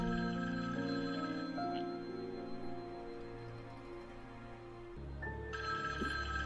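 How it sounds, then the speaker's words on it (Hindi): A telephone rings inside a fanmade Halloween horror video game, a steady electronic ringing tone that persists throughout over an eerie game soundtrack, moderately loud with no talking. "तो फोन किधर बज रहा है यार?"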